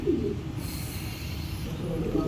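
Racing pigeons gathered in a basket for a 750 km race, cooing softly in low murmurs over steady background noise, with no clear talk.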